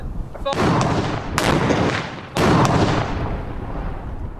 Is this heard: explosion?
yes